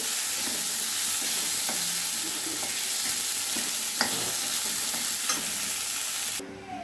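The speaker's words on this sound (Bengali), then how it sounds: "এবারে মাছের আলুগুলো আমি ভেজে নিচ্ছি লবণ হলুদ মাখিয়ে" Potatoes rubbed with salt and turmeric fry in hot oil in a kadai for a koi fish curry, giving a steady, close, dense sizzle with a few faint stirring clicks and taps, with no talk.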